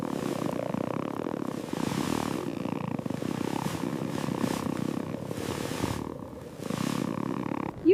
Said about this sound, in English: Purr.